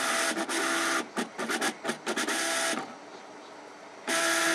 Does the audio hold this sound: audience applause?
no